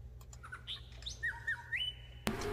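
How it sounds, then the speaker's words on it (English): Outdoors, a bird gives a short run of squawks and chirps, a few rising and falling calls over a low hum, fairly near but faint, cut off by a sudden louder noise at the end. "What bird is that?"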